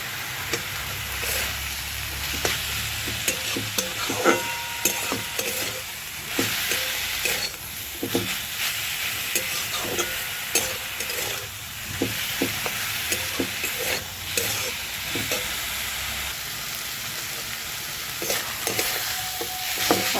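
Red amaranth greens sizzle and fry in a pan with onion, garlic and chili while a spatula stirs them in a steady scraping rhythm; close, continuous and fairly loud, with no talk.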